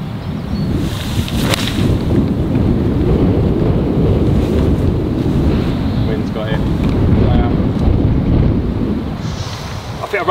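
Cold, gusty wind on a golf course in the Algarve buffets the microphone with a steady low rumble that rises and falls but never lets up.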